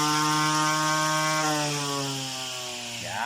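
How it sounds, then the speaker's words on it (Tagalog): Portable grass cutter engine running in a backyard garden, a loud buzzing small two-stroke motor with strong harmonic whine that drops in pitch as it idles down, close and alone. "Na pang grass cutter."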